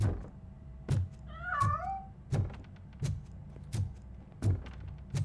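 A cat meows once, a short wavering cry heard in the RoboCop: Rogue City video game, set among a steady run of dull, evenly spaced thumps.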